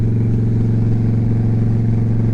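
A new Indian motorcycle idling close by, its engine a steady, loud, low throb with an even pulsing rumble and no change in pitch.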